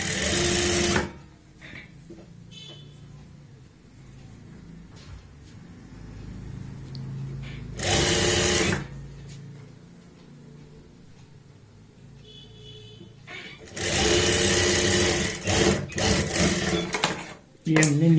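A sewing machine runs in short bursts while basting the front of an angrakha kurti along its centre line, three loud mechanical stretches separated by quieter gaps where a person speaks.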